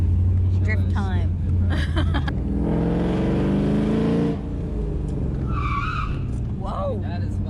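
A 2000 Camaro Z28 fitted with a hydraulic e-brake drifts, its engine revving hard in a sustained, loud roar with skidding tires for a couple of seconds, bracketed by excited voices talking before and after.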